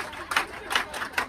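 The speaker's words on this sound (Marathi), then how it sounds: "आता इथं काय चाललंय माहित नाही, टाळ्या का वाजवतात पण तुम्ही सगळ्यांनी बघा" Several people clap in a shop, three or four short, evenly spaced rounds of claps at moderate distance over a low murmur of background noise.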